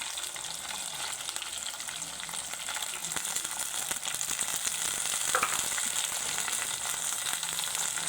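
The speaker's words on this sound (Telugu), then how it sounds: "ఇప్పుడు ఇందులోనే నీట్గా పసుపు వేసి కడిగి పెట్టుకున్న మటన్ కూడా వేసేసుకుందాం." Mutton washed with turmeric sizzles and fries in a pan, a steady broadband crackle running throughout with a slight surge of intensity midway, close and moderately loud with no talking.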